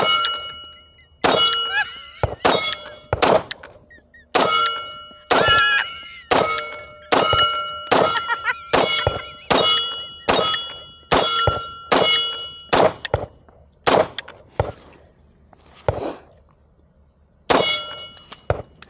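Rapid pistol shots from a Taurus handgun strike steel targets, each crack followed by a bright metallic ring. Roughly fifteen hits come in quick irregular bursts with brief pauses, loud and close, with no talking.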